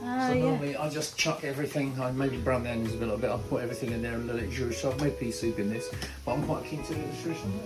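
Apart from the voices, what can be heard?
No everyday noise stands out behind the speech.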